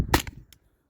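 A Salt Supply S2 launcher fires a single sharp, close shot on a warm day. A short clack follows, then quiet.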